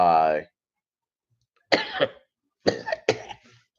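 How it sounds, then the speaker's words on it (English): A single short cough, then after a pause a few more rough coughs close to the microphone, with no talking. "it's just a cough"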